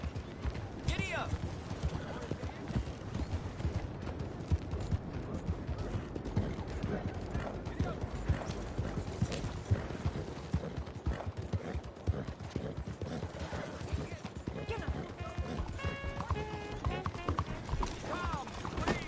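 Horse hoofbeats while riding in Red Dead Redemption 2: a steady clip-clop of galloping hooves running throughout, with game voices and speech mixed over it and other ambient game sounds.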